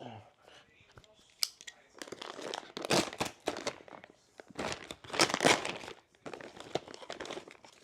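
A razor blade slices open a brand-new plastic vacuum storage bag for 3D printer filament, giving bursts of crinkling, tearing plastic that swell and fade over several seconds, with faint breathy voice sounds in places.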